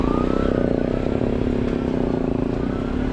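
A motorcycle being ridden gives off a steady, moderately loud engine drone with a faint whine, heard close up and continuous for a few seconds.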